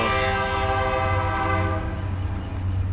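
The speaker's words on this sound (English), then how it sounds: "same time train is also coming" A train passes close by, its sustained horn blaring loudly over a low rumbling roll that continues steadily after the horn fades, with no talk.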